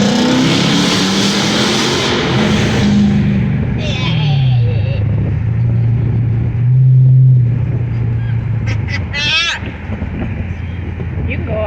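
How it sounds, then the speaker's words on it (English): Courtney's custom car engine revs and rumbles nearby, its low droning pitch rising and falling as it drives past, with passing traffic and a few brief voices around it. "Courtney's custom car."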